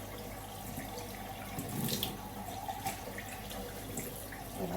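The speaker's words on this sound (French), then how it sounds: "Je vide mon réservoir que je remplirai la semaine d'après" Water pours from the clean water tank of an ILIFE W90 wet vacuum as it is emptied into a sink, making a faint, steady splashing trickle.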